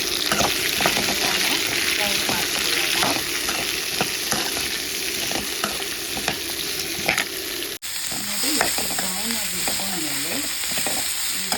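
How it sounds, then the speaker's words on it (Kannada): Mutton chops fry in oil in a pan with a steady, close sizzle, and utensil scrapes and stirring strokes recur throughout. "1-2 ಸ್ಪೂನಷ್ಟು ಎಣ್ಣೆ ಹಾಕ್ಕೊಳ್ಳೋಣ."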